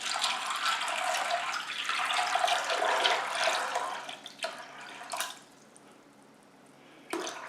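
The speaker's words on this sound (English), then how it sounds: "cover them with some cool water." Cool water pours over dried pinto beans in a bowl, a steady broadband rush for about four seconds that tapers off, followed by quieter drips and a brief splash near the end.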